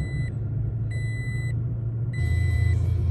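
2021 Toyota Tacoma TRD Sport started with a push button: a low idle rumble under repeated high electronic dash chimes, then the engine note steps up louder as it catches and settles.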